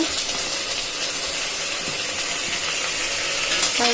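Sliced tomatoes sauté in a pan with ground spices for stingray fish biryani, a continuous close hiss and sizzle with faint scraping clicks.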